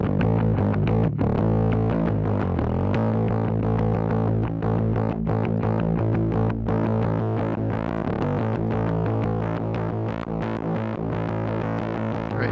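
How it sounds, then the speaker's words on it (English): An overdriven bass run hard through a Lindell 80 Series plugin with the Unity switch engaged growls with thick, steady saturation under a continuous loud music mix, with rhythmic hits throughout. "with the Unity, I can actually drive this to get some more distortion"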